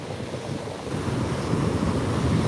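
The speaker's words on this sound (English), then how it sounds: "look how rough the ocean is" Rough ocean surf breaks and rolls onto a beach, a broad continuous roar that builds louder toward the end, mixed with gusty wind buffeting the microphone.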